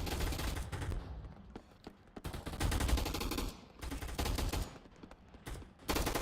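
Rapid bursts of automatic gunfire crackle in a video game gun fight arena, loud and close, with short pauses between volleys and no voices.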